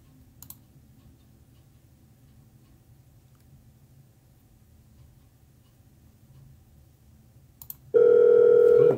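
A telephone is dialed to call a seller: faint clicks and a quiet hum give way to a loud, steady ringback or dial tone near the end.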